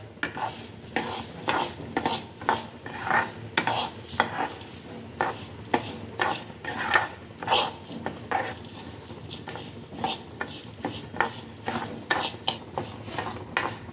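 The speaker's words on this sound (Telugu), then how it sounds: "కొంచెం మినప్పప్పు మూడు స్పూన్లు పెసరపప్పు ఫస్ట్ ఇవి వేయించుకోవాలి దోరగా" Urad dal and moong dal roasting in a little oil in a pan, with a spoon scraping and clinking against the metal in quick, steady strokes over a soft sizzle, close and alone.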